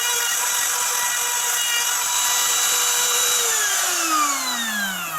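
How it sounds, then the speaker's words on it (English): A power router cuts through wood with a loud, steady high-pitched whine, its pitch sliding downward near the end as the motor winds down. "I kept the router moving to prevent burn marks and overheating of the cutter bit"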